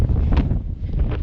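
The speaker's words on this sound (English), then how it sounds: "Windy here, so I'm not sure how much this will come out." Wind gusts across open farmland near a small hamlet, buffeting the microphone with a loud, rumbling low roar that rises and falls through the short moment.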